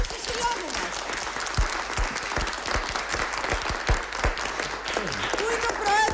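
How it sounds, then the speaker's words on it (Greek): Audience applause at a Greek association's event greeting the association president, a dense steady clatter of clapping hands across the whole stretch with a few sharper claps and faint voices near the end. "Ένα χειροκρότημα για τον πρόεδρο του συλλόγου μας."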